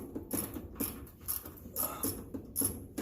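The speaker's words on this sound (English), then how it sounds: "we can get into this charge tube that's way back here in the back and loosen that guy up" A tool ratchets in short repeated bursts while loosening a charge tube clamp on a Maverick X3, with metallic clicking and faint creaks close by.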